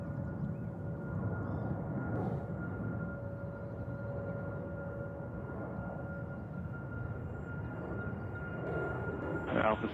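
A plane taking off from runway 13 right at JFK airport, a low, steady engine rumble and roar heard from a distance, continuing for several seconds with a faint tonal whine above it.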